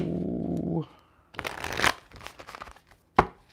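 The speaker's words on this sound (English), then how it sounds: "A nice little shuffle" A brief hum gives way to quick riffling bursts of cards being shuffled, followed by a sharp snap near the end, close and fairly quiet.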